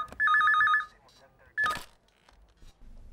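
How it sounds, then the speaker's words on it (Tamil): A telephone rings in bursts, a warbling electronic trill lasting over half a second, then another short ring after a pause, with background sounds and some voices in between. "உங்களுக்கு தான் ஃபோன், எடுங்க."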